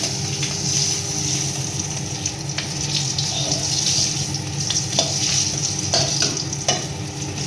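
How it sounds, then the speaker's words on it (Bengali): Nigella seeds and green chillies crackle and sizzle steadily in hot oil in a pan for a Bengali katla fish curry, with a few light clinks of a utensil against the pan. "বন্ধুরা, আমি ফোড়ন দেব একটু কালো জিরে, একটু চারা পোনা তো কালো জিরে আর কাঁচা লঙ্কা ফোড়ন দিয়ে দেবো।"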